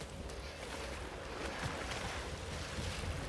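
Water splashing and sloshing as the character swims in Ratchet & Clank: Rift Apart, a faint, steady wash of churning water with soft splashes and no voices.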